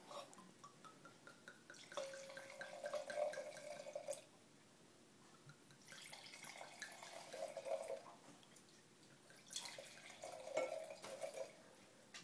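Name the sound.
wine being poured into glasses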